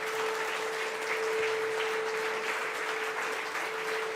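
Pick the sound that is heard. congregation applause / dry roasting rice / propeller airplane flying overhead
congregation applause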